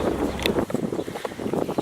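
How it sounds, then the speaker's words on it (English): Wind buffets the microphone in a rough, steady rumble outdoors in Pennsylvania, with gusty bursts and faint crackles through the short stretch. "It's like so windy."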